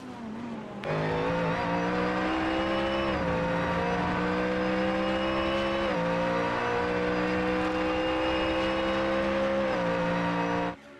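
Two Ford Mustang GT3 race cars in a sim racing game on the Circuit de Villeneuve, engines droning steadily and loud for about ten seconds with pitch rising and dipping through gear changes, no talking.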